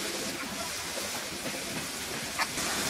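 Soy sauce hits a hot pan of winter vegetables for egg noodle soup, setting off a steady, dense sizzle that crackles evenly throughout, with a brief sharper clink near the end.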